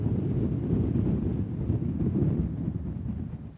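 Wind gusts across a golf course, buffeting the microphone with a low, continuous rumble that stays fairly steady and fades slightly at the end. No one speaks.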